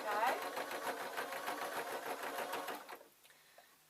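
A sewing machine runs in a steady rapid chatter while stitching a twiddle muffler, then stops abruptly near the end, leaving a brief quiet tail.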